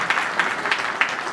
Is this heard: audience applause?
yes